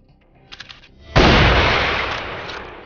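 A single loud sniper-style gunshot in the mobile shooter Rival Fire booms after a few faint clicks, its heavy report decaying slowly over the next second and a half.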